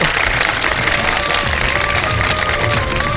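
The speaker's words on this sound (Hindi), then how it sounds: "बहुत सारी तालियां" Studio audience applause on a televised iftar quiz show, a dense, steady wash of clapping and crowd noise filling the whole stretch at an even, loud level.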